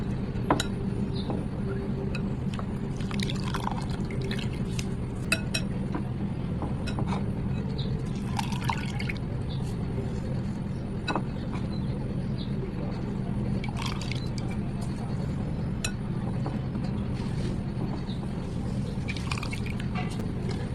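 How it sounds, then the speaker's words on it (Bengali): Cut potatoes are rinsed and swished in a little water in a home kitchen, giving soft close dripping, splashing and squishing that continues through the whole stretch at moderate loudness. "এখন আমি সামান্য জল দিয়ে ধুয়ে নিয়ে নেব"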